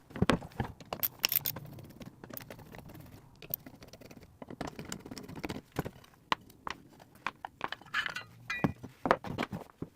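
Opening a Tube Works Blue Tube pedal enclosure: a series of sharp metallic clicks, taps and small clinks from handling screws and casing, irregular and close, with quiet gaps between.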